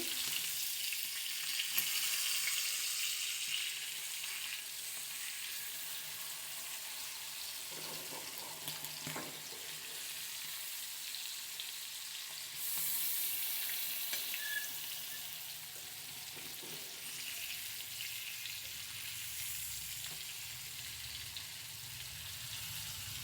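Pomfret fish frying in a pan over a low gas flame, a steady, moderately loud sizzle running throughout with occasional scraping as the pieces are turned.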